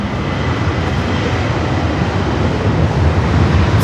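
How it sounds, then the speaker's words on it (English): Lufthansa Boeing 787 Dreamliner on short final to runway 24 right at Los Angeles LAX, a loud, steady jet engine roar swelling slightly toward the end, heard alone. "the Lufthansa Dreamliner short final for 24 right."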